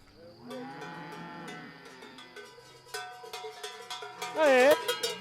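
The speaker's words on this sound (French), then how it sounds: "on met les cloches donc à toutes les vaches" Cows in an Ariège farm corral are being prepared for summer mountain pasture. Cowbells clang and jingle continuously while several cows moo, long low calls rising to one loud close bellow near the end.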